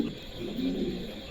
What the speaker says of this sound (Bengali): 5 কিলোর কবুতর